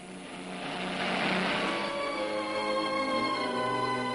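A propeller plane drones steadily overhead, its engine hum swelling slightly and then holding at a moderate, distant level throughout.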